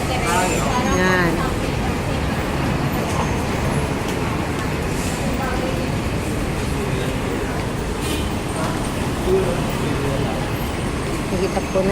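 Daytime street traffic at Greenbelt in Makati gives a steady, dense roar of passing vehicles and engine rumble that continues throughout, with someone talking over it.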